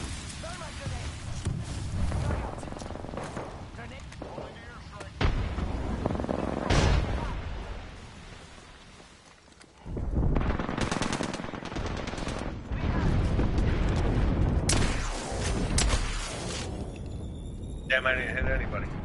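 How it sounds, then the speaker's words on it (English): Gunfire in a first-person shooter video game crackles in repeated bursts and rapid volleys, some loud and close, while players talk over much of it. "Where's those shots coming from?"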